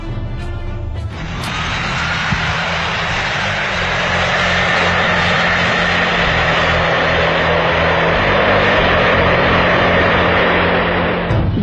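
Commercial aircraft engines produce a loud, steady roar with a broad rushing hiss and a low drone, starting after a brief softer moment and holding strong and continuous throughout.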